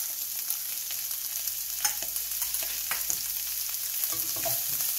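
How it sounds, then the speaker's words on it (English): Garlic paste fries in a pan while making butter chicken, a continuous bright hiss of sizzling oil with scattered crackles and stirring scrapes, close and steady throughout. "we're gonna go ahead and add our garlic paste to it"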